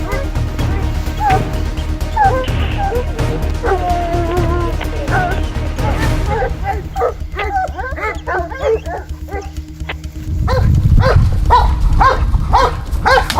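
A pack of hunting dogs bays and yelps continuously during a wild boar hunt by Russian farmers, the barking dense and loud, with rumbling movement and scuffling noise building near the end.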